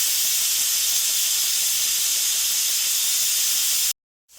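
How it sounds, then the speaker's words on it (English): Steam rushes from a Ninja pressure cooker's release valve, a loud, steady close-up hiss lasting nearly four seconds before cutting off abruptly into silence. "then the steam releases, the pressure releases."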